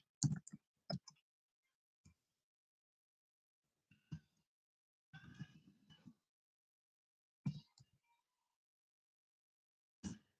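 Sparse keyboard clicks and taps come in short clusters separated by quiet pauses, close and fairly faint, with no voices.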